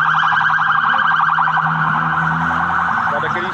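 Civil police car siren speeding past near a fire at a samba school, a loud wailing electronic siren cycling rapidly and steadily, close to the microphone with no talk over it.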